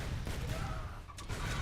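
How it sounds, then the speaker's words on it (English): Dense rocket explosions and gunfire from the Happy Room video game crackle and thud continuously, a loud, busy barrage of overlapping blasts with a sharp bang near the end. "the rockets are now on stage 2, so they have more ammunition, and more ammunition means more explosions all around"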